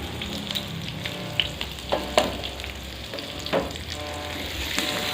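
Meatballs stir-fry with chili, shallots, petai and galangal in a sizzling pan, a steady close fry punctuated by several sharp spatula clanks and scrapes.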